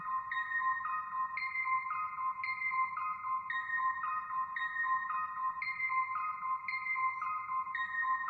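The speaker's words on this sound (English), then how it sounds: "It's drenched in reverb." A plucky synth pattern from an isolated stem of Depeche Mode's "Enjoy The Silence" repeats steadily, each note trailing into a wash of heavy reverb that blurs the notes together; no voices.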